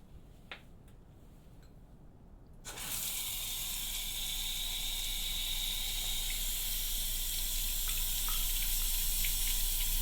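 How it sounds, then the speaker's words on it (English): Water from a tap runs in a steady close hiss as hair is rinsed, starting abruptly after a few seconds of quiet small clicks and then flowing continuously to the end. "let me rinse your hair."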